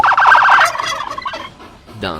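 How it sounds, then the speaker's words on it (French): A turkey gobbles once, a loud rapid warbling burst up front, followed by a softer trailing call and a brief second gobble at the end, heard alone on a farm. "Dinde."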